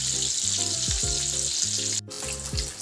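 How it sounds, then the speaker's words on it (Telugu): Chicken pieces deep-frying in hot oil, KFC-style crispy fried chicken, a loud, steady, close sizzle and crackle with a brief dropout near the end. "మనం ఎట్లా అంటే గోల్డెన్ కలర్ వచ్చే వరకు వేయించుకోవాలి."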